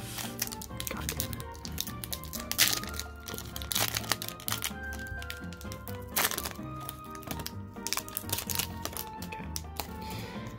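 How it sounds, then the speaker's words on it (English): Foil wrapper of a Pokemon Hidden Fates booster pack being torn open, with repeated close crinkling and crackling bursts that continue steadily throughout. "These fucking packs are hard to get open, because I try to open them in such a way that, preserves the cards."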